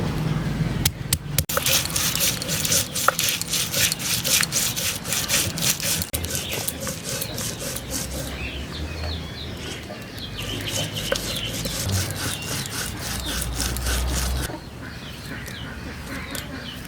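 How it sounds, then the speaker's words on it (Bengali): Cumin, fennel, dried chilli and ginger are ground by hand on a grinding stone, giving close, rhythmic rasping strokes that pause briefly, while a chicken and birds call faintly in the background. "অল্প পরিমাণ জিরে, অল্প মৌরি, শুকনো লঙ্কা একসাথে দিয়ে বেটে নিচ্ছি।"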